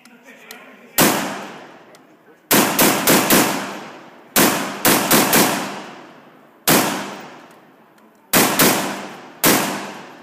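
Browning M1919 machine gun firing outdoors in loud, sharp bursts of one to five rounds, with ringing decays between volleys and short pauses separating each string of shots.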